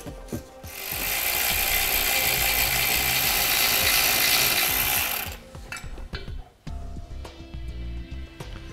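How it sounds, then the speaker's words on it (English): A hand ratchet with a 12mm socket turns out a bolt while a Curt trailer hitch receiver goes onto a 2014 Toyota RAV4, giving a loud, steady clicking run of several seconds followed by a few slower, separate clicks and clanks. "We'll go ahead and remove the bolt here and here using a 12mm socket."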